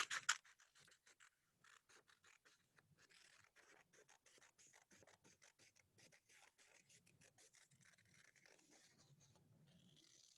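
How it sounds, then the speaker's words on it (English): Scissors snipping through paper while cutting out a body shape for a craft, with quiet, rapid, irregular snips and rustles that run steadily for about ten seconds, close and faint. "I'm going to cut out the body now right here."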